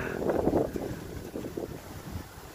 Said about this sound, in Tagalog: Ayun, ang lakas ng hangin.